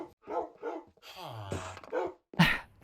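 Dogs barking in Minecraft: a run of short yappy barks and a whining, drawn-out yelp, close and fairly loud, ending in a sharp bark.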